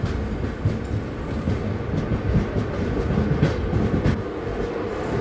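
Venkatadri Express passenger train, number 12798, running from Chittoor to Kacheguda, gives a steady, loud rolling rumble on the rails with faint rhythmic clickety-clack of the wheels throughout.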